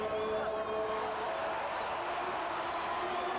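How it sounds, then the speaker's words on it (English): A home crowd cheers throughout a rallycross race in France, a steady, dense wash of distant voices that holds at an even level for the whole moment without pause. "You can actually hear the home crowd cheering Jay on, willing him to keep going"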